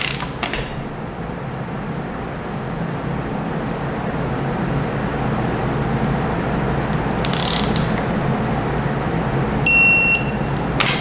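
Steady mechanical grinding and ratcheting from a torque wrench tightening a bolt, continuous and close, with a few brief higher clicks and a short electronic beep near the end.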